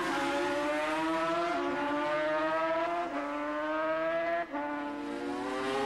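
A GP 500 two-stroke racing motorcycle screams at full power, a loud, piercing high-revving engine note that climbs steadily with brief dips at gear changes, dominating the scene without talk.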